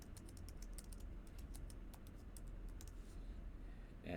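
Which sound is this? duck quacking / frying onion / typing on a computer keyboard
typing on a computer keyboard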